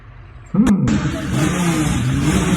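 An old-school drag race car revs loudly nearby, a sharp burst of engine roar kicking in and holding as a sustained mid-pitched growl.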